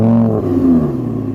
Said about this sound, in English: A naturally aspirated V10 engine isn't just about the performance, it's also about the noise. So let's start the Audi up,